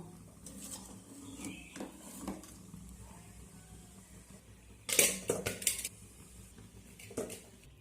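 Kitchen utensils clatter against a pot as boiled mangoes are strained out of water, with scattered scraping and clinks and a sharper burst of metallic clanking midway, all fairly close with no talk.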